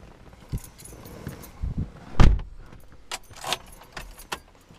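Car keys jangle in a vehicle's ignition as the key is turned, with scattered metallic clinks and one louder rattle midway, close and alone without talk.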